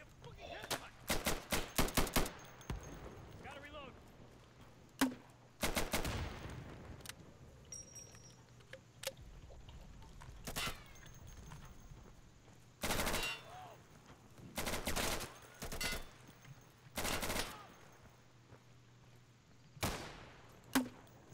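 Gunfire from the video game Insurgency, including heavy machine-gun fire, comes in loud rapid bursts and single shots spread across the span, with quieter gaps between volleys.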